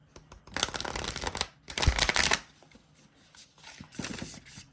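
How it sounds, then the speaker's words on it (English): A mass-market tarot card deck is shuffled nearby, with two dense riffling bursts of crisp card flutter followed by softer shuffling. "Look at that beautiful shuffle."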